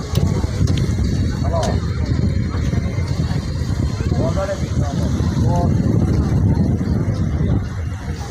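Passenger launch boat MB Lamia 2 running at a river launch terminal, its steady low engine drone and broadband rumble continuous throughout with wind noise, while someone talks over it.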